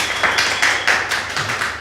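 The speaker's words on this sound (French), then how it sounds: "Oui, petits applaudissements." A small studio audience claps briefly on a French debate show, a short light patter of hands close by with no talk over it.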